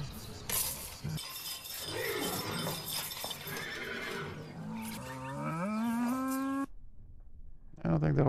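Horse whinnying in the animated Jibaro episode, a rising, wavering neigh heard late after crashing, shattering sounds, with a person talking over the soundtrack.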